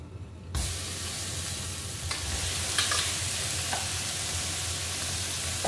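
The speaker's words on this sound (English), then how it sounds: "Now to fry the Assam prawns, I just put about half a tablespoon of oil." Assam tamarind prawns hitting hot oil in a pan, a steady close sizzle with faint crackles and a few light clinks, continuing evenly with no voices.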